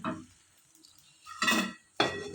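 An appam pan scrapes and clinks as batter is swirled around it, with two short metallic bursts close by after a soft opening knock, then quiet in between.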